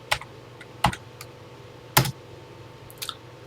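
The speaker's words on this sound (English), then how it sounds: "we're almost done typing this very short program in here" Keys on a TI-99/4A home computer keyboard are pressed one at a time as a short program is typed. The sharp, close clicks come in a sparse, uneven rhythm over a quiet background hum.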